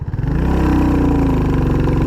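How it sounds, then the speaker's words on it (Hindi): A Royal Enfield Classic 350 motorcycle pulls up through second gear, its thumping single-cylinder engine loud and close as the pitch climbs steadily in one continuous run, with no voices over it. "अब हम इसको सेकंड गियर से उठाते हैं।"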